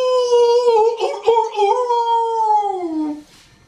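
A human voice imitating a dog howling at the moon, one long wavering tonal howl that slides downward and fades at the end, close and loud.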